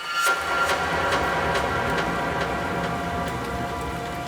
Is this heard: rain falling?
yes